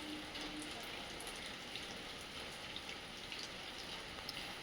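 Rain falls steadily outside a veranda as a soft, continuous hiss, quiet and even throughout with no distinct voices.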